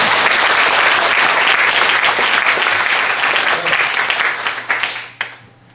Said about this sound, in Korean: 감리교단 만수 천수 위에 박수 한번 더 합시다